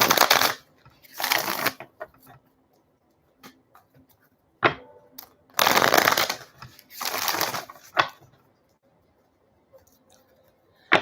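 Tarot cards are shuffled in several bursts of crisp riffling and flicking, close and fairly loud, separated by quiet pauses and occasional taps, with no talking.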